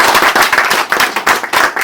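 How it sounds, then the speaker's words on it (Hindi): Loud, dense audience clapping fills a Constitution Day gathering of an SC-ST federation, with sharp, crackling hand claps in rapid overlapping bursts close to the listener. "जोरदार तालियां बजाइए।"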